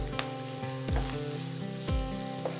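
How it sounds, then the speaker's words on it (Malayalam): Coriander and chili powder sautéing in a pan for butter chicken, a close continuous sizzle with a few sharp scraping sweeps of a spatula about once a second. "3-4 മിനിറ്റ് നമുക്ക് വഴറ്റി കൊടുക്കാം"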